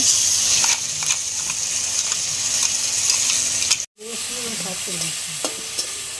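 Ginger, garlic, green chilli and tomato masala frying in a pan for a red lentil curry, giving a steady close sizzle with light stirring scrapes, briefly cutting out midway before the hiss resumes.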